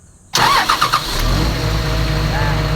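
A Komatsu PC200-8 excavator's diesel engine starts up close by: a brief starter whir with a few rapid chugs, then a loud, steady rumble as it settles in.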